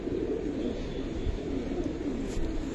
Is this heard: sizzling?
no